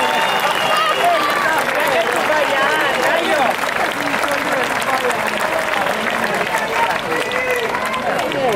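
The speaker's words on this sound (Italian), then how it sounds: "Facciamo un applauso a questi due atleti" Live audience in an outdoor town square applauding after a youth Muay Thai match, a steady dense wash of clapping and crowd noise filling the whole stretch at close, even loudness.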